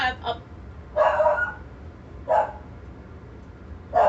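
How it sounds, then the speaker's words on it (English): A dog barks four times in sharp, separate bursts at a moderate distance indoors, with quiet gaps between them over a low background hum. "I don't know what she's barking at."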